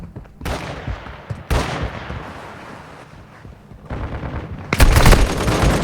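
Rapid gunfire bursts in the Warzone Mobile game on a scrapyard map in 6v6 multiplayer, loud and sustained shooting with short pauses, building to a dense, heavy volley near the end.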